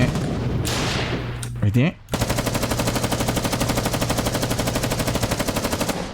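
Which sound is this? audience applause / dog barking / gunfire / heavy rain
gunfire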